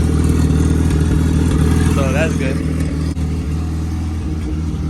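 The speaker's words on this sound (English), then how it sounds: "All right, so the car's on." An Acura Integra with a freshly installed CSF radiator idles close by, a steady low engine drone under a brief spoken remark from a man.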